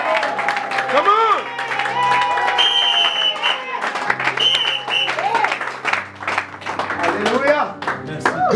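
A church congregation claps and cheers for Jesus during a Sunday service, loud sustained applause and rhythmic clapping mixed with crowd voices and music throughout.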